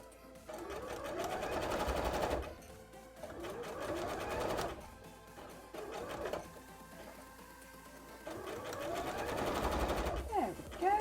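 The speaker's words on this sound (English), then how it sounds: "You sew on top of the fabric, not underneath the fabric." A sewing machine stitches fabric for cosplay pumpkin shorts in close, fast rattling bursts of a few seconds each, separated by brief pauses, with no talking over it.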